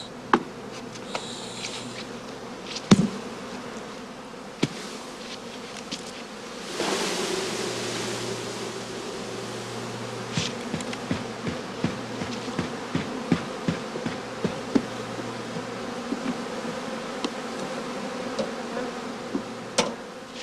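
Dense, steady buzzing of honey bee colonies packed in heather skeps, a continuous insect drone with scattered close wingbeat passes and soft knocks, no voices.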